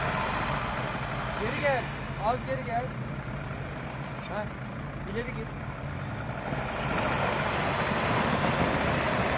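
An off-road vehicle idles steadily at night on rough terrain, its low engine rumble continuous beneath voices talking nearby throughout.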